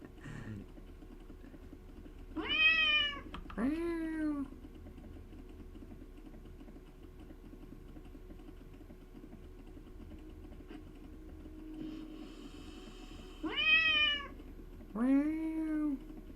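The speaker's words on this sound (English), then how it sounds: "Every now and then you hear the cats." Cats meowing inside the World of Warcraft video game: two separate pairs of clear, drawn-out meows, one pair early and one near the end, over a steady low game hum with faint key tapping.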